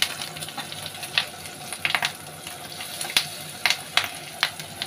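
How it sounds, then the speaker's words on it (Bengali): Rohu fish fries in hot oil with a steady sizzle and repeated sharp crackling pops of splattering oil, close and irregular. "যতক্ষণ না পুরো ভাজা হবে ততক্ষণ এই ছিটকাবে"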